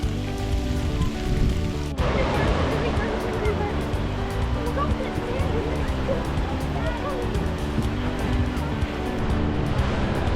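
Waves wash steadily onto St. Augustine Beach in Florida, a continuous broadband surf rush heard close, with a brief sharp knock near the start and no talking.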